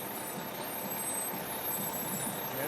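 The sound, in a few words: decorated fire trucks driving in a parade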